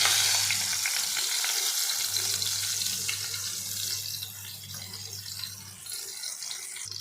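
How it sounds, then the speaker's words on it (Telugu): Dried red chillies frying in oil over a low flame, giving a steady soft sizzle with a faint bubbling hiss that runs throughout, with no talking. "ఇప్పుడు అదే నూనెలో ఎండుమిరపకాయలు వేస్తాను. సన్నగా సిమ్లో పెట్టుకొని వేయించేస్తాను."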